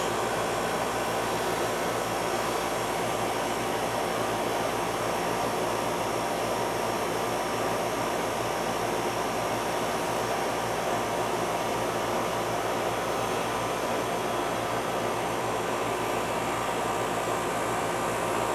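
Home air conditioning system, three years old and not cooling, with its indoor fan running: a steady, faint broadband whoosh of moving air that holds unchanged throughout, with no talk.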